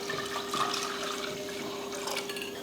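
Water poured onto masoor dal in a cooking pot, a short splashing, gurgling pour with light drips, close and moderately loud.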